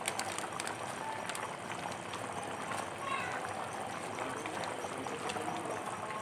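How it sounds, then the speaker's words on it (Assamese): Chicken masala dish bubbling in a pot, a steady low simmering hiss and bubbling throughout, close and even, with light kitchen clatter. "এয়া উতলিছে"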